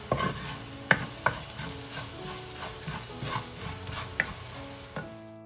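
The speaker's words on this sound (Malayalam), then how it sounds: "മഞ്ഞളിൻ്റെ ആ പച്ചമണം ഒന്ന് മാറി വരുന്നത് വരെ നന്നായിട്ടൊന്ന് വഴറ്റിയെടുക്കുക." Turmeric powder sautéing in a pan for a Kerala prawn curry, a soft steady sizzle broken by several sharp scrapes and taps of a spoon stirring against the pan.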